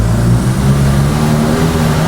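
A loud, deep engine drone from a BMW X3 Competition with a Remus exhaust, throaty note holding steady and rumbling close by with no talking.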